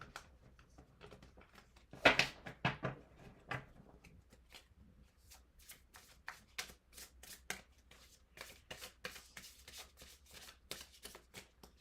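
Tarot cards shuffled by hand, a long run of quick riffling flicks and soft card slaps, close and fairly quiet, with one louder burst early on.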